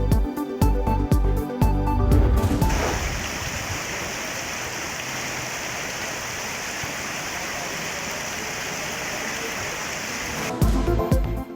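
Steady heavy rain falling in Islamabad and Rawalpindi, a dense, continuous hiss and patter that holds evenly for several seconds, framed by brief bursts of other sound at the start and end.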